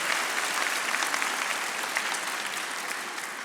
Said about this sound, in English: If we want to give everyone a round of applause